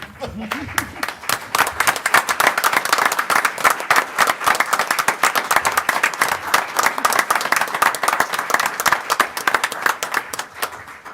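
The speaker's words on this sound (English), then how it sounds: "we're gonna stand up and applaud you too" Sustained clapping from people standing at a county commissioners' meeting to honor a retiree, crisp individual claps in a steady rhythm close to the microphone, with some voices underneath.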